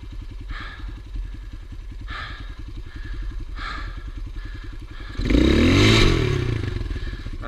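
A Gio 250cc enduro motorcycle labors up a muddy climb, engine chugging in a steady low thump with periodic surges, then a loud revving burst near the end, close up with no talk.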